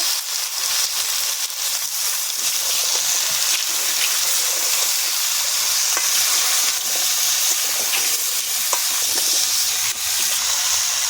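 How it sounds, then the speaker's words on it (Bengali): Pumpkin, drumstick stems and potatoes frying with prawns and onions in a pan, giving a loud, continuous hissing sizzle that stays dense and even throughout, with faint scraping and no voices. "এবারে সবজি দেব, কুমড়ো, ডাঁটা আর আলু, এগুলো একসঙ্গে ভেজে নেব"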